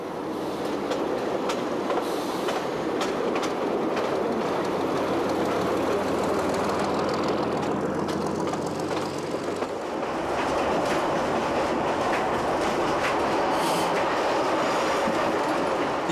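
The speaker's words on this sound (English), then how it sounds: "these elderly units often show a very respectable turn of speed as they rattle along some sections." A rebuilt elderly Billard railcar on the Corsican line between Ile-Rousse and Calvi rattles steadily along the track. A continuous loud rumble is mixed with clickety-clack from the wheels, heard from on board.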